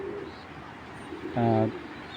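A single pigeon coo, close and clear, rises briefly amid quiet room noise where pigeons are kept for sale, with faint bird chirps in the background.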